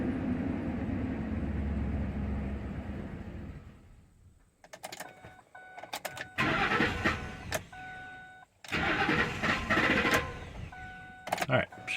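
Ford 5.4-liter V8 engine being cranked with the fuel pump disabled, so it never catches: two long bursts of rhythmic starter churning after a stretch of talk, loud and close, with a short click between them.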